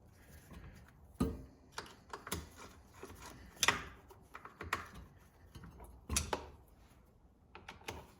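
Bolts being tightened back onto the shaft and head of a Stihl trimmer, a series of close, sharp clicking and ratcheting mechanical taps at irregular intervals with quieter handling noise between.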